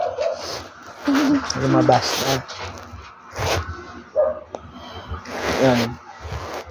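A dog gives a few short yips and barks nearby while someone talks over it.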